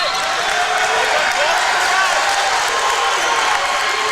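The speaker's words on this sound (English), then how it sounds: "that Olentangy crowd is coming alive" Crowd at a high school boys' basketball game between Olentangy Orange and Grove City, a loud sustained roar of cheering filling the gym with sneaker squeaks mixed in.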